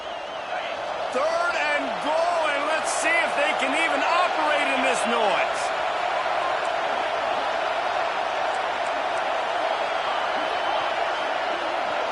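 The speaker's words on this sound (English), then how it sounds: "how nice is it to have the home crowd going absolutely bananas?" A home crowd roars and cheers at an American football game, with a steady loud wall of noise and scattered whistles and shouts rising through it.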